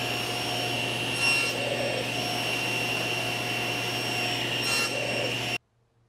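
A power saw cuts scrap wood sanding blocks to length with a steady, loud whine and two brief surges as the blade bites the wood, then stops abruptly.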